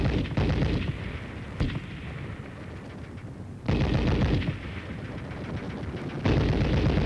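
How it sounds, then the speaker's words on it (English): Live ammunition and explosions thunder during military training in Korea in 1953. Loud, dense volleys of gunfire and blasts swell and ease in long surges, close and continuous, with no talking. "it was quite different when live ammo was being thrown at you"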